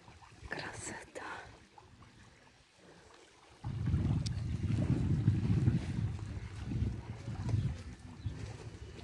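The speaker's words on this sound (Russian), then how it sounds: "Шум моря, закат." Sea waves at sunset on the shore at Berdyansk, a soft wash that swells into a louder rolling surge halfway through, with wind buffeting the microphone and faint voices early on.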